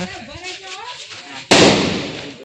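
A chili bomb firecracker bursts with a single loud, sharp blast during village Diwali celebrations. The bang follows a stretch of people talking nearby and then trails off quickly.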